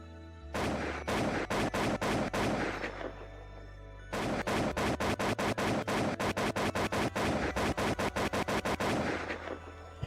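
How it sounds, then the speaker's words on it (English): AK-47 automatic rifle fire from a video game in two long bursts separated by a short pause, loud, punchy and evenly spaced, with no voices. "it actually plays the sound that is associated with the player, which is the AK-47 sound"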